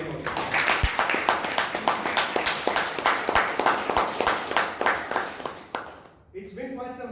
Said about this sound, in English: a huge round of applause for our TMO